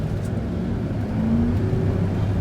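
A vehicle with automatic four-wheel drive accelerates on snowy roads, its engine a steady, close, loud drone rising slightly in pitch as it opens up, heard from inside without talking.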